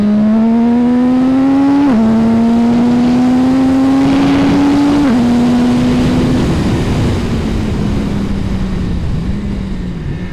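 A CFMoto 675 SR-R sport motorcycle on a racetrack revs loud and close. The engine note climbs steadily, then drops sharply at each upshift before climbing again, with heavy wind rush and no talking.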